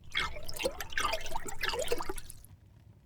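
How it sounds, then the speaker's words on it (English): Chocolate is stirred gently into hot water in a cup, making close liquid swishes and small clinks for a couple of seconds before it drops to near silence. "And in goes the chocolate, which needs to be added while stirring gently."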